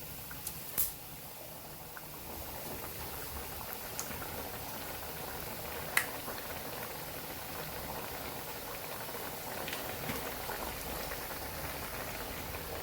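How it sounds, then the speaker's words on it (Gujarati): Chapdi, a Kathiyawadi flatbread, frying golden brown in oil, giving a faint, continuous bubbling sizzle with a few sharp pops and crackles scattered throughout. "તો આવી જ રીતે આપણે ગોલ્ડન બ્રાઉન કલરની બધી ચાપડીને તરી લઈશું."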